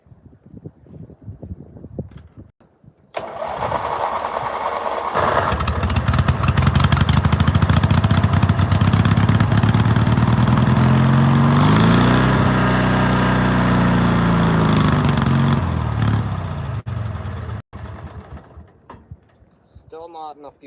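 A small engine sputters as it tries to run, catching and roaring loudly for several seconds before faltering and dying, with brief speech before and after and wind noise on the microphone.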